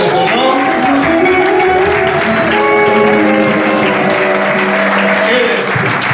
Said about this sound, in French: nous acclamons très très fort le Seigneur